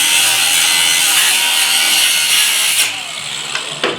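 A power tool saws through exhaust pipe clamps on the center pipes of a 1976 Triumph TR6, a loud, steady grinding rasp that runs close and unbroken for about three seconds, then drops off with a few short bursts.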